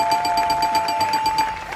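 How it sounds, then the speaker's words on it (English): A game show buzzer rings out in a bright, rapidly pulsing electronic tone at a charity event stream, loud and steady for almost two seconds with no talking. "Let me press the buzzer now and see who we will hear from next."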